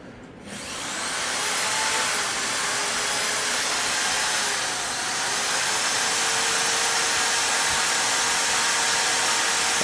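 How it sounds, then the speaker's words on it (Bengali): An electric drill powered by a 1200-watt home IPS inverter spins up after a brief pause and then holds a steady, loud, high whirring drone, nearby and alone. "এবার এই ড্রিল মেশিনটা চালাও।"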